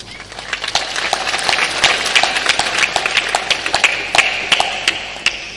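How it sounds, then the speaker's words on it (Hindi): An audience claps their hands together in a steady, dense round of applause, loud and close, with sharp individual claps standing out over the crowd wash and no voices. "ये जो मैं आपसे ताली बजवाता हूं"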